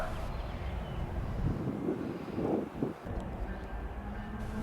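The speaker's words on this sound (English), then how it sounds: "Here comes a Metrolink train now" A Metrolink commuter train approaches at a station with an adjacent freight yard, a low broadband rumble with wind buffeting that swells in the middle and then eases into a steady background roar.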